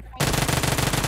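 Rapid automatic gunfire from PUBG Mobile, a loud sustained burst of machine-gun shots starting abruptly after a short quiet moment and rattling on steadily to the end.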